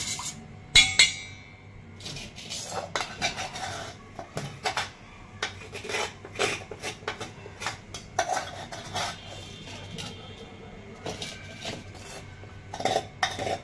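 A spoon mixing milk in a steel vessel for homemade curd, with clinking and scraping strokes of metal on metal in irregular bursts and brief pauses, close and moderately loud.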